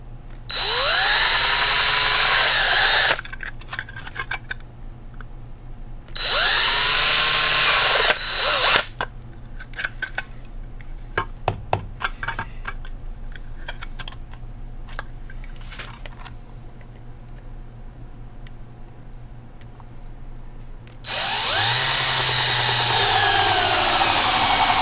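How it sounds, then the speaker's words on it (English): A power drill bores holes in a heat-formed drone frame, running in three loud high-pitched bursts of a few seconds each, with scattered clicks and handling noises in the quieter stretches between them. "go ahead and drill the rest of this out."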